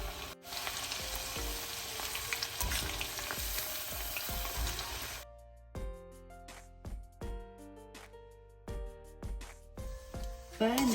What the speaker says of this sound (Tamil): அடுத்ததாக இந்த கடலை பருப்பை பொரிச்சு எடுக்க போகிறேன்.